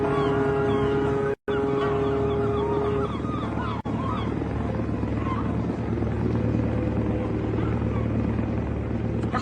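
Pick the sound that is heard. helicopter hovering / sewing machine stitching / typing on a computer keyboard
helicopter hovering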